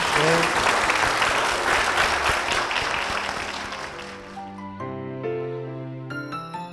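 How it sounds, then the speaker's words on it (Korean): Church congregation applauding loudly in sustained clapping that fades after a few seconds as organ or keyboard music comes in. "이 두 분을 위해서 큰 박수 부탁드리겠습니다."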